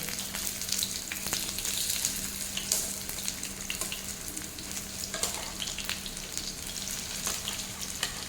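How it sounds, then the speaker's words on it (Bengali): Battered pumpkin flower fritters fry in hot oil over a low flame, giving a close, continuous crackling sizzle with scattered pops. "আবারও লো ফ্লেমে এটাকে মিনিট 2 ভেজে নেব"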